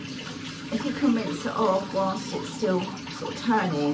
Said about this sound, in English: Right, so I'm going to rinse it off whilst it's going.